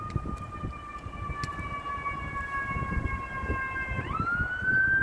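A police or ambulance siren wails outdoors in the distance, a steady sustained tone that sweeps upward near the end, heard alone over low ambient rumble.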